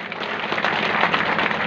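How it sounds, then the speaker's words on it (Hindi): Loud, sustained applause from a large outdoor crowd at a fair ground gathering, a dense even wash of clapping without pause. "इनके लिए भी जोरदार तालियां।"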